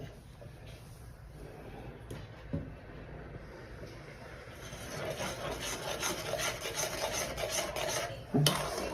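Semolina papad batter is stirred in a heavy pan over very low heat, with soft rubbing, scraping strokes against the pan bottom that grow busier toward the end, close and quiet, without talking.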